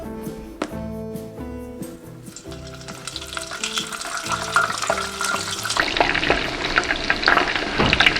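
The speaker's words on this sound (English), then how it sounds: "We are going to cook tempura shrimp." Tempura shrimp frying in hot oil, a steady crackling sizzle that grows louder and busier partway through, with a melodic tune playing underneath at the start.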